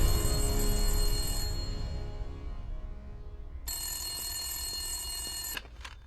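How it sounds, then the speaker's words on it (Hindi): An old-style telephone bell rings loudly in a police station, a sustained metallic ringing that starts, pauses, then rings again before cutting off abruptly, with a low hum underneath and no talking. "एक फोन आया"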